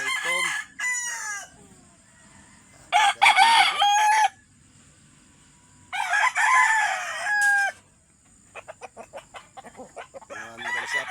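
A rooster at a rural hut crows loudly and nearby twice in long drawn-out calls, with further crowing from another bird farther off and a rapid series of short clucks near the end.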